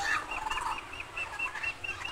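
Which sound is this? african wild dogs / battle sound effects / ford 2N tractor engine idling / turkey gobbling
turkey gobbling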